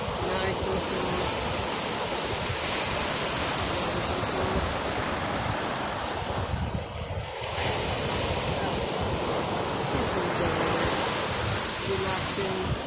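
Pacific Ocean surf with continuous broad wave wash and wind noise on the microphone, a steady roar that dips briefly midway and builds again, with no voices.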